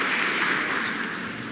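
A church congregation at a live Kikuyu Sunday service claps together in steady, dense applause that fills the room, loud and continuous from start to finish with no voices over it.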